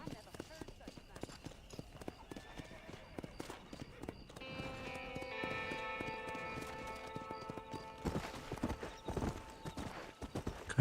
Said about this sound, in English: Caralho, eu peguei o cavalo pra andar isso aqui.